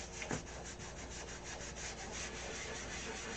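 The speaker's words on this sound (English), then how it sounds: "sand with a block" Steady, close sanding of a clear coat with a block: a gritty rubbing scrape repeated in quick, even back-and-forth strokes.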